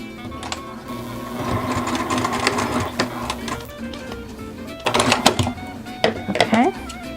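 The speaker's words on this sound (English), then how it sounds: "I'm going to clip that off, clip this off, sew this down a little bit better right here" A sewing machine stitches fabric for a doll sweater in several short runs of rapid mechanical clatter, with someone talking over it throughout.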